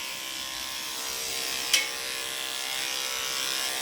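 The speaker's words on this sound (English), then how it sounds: "Anytime you shave the leg, at this point down, you need to have it in your hand to have control and know where the hock is." Electric clippers running on the leg of a Maltipoo dog, a continuous steady buzz held throughout, with one brief sharp click partway through.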